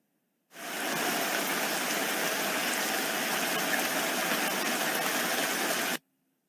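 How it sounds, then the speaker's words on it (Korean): Recorded rain sounds play from a smart speaker, a steady, even hiss of falling rain that starts abruptly, holds constant for several seconds, then cuts off cleanly. "빗소리 참 좋지?"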